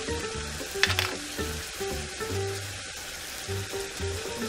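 Chicken pot pie filling of carrots, potatoes and peas, seasoned with salt and black pepper, sizzles steadily in a pan, with one brief clatter early on and no talking.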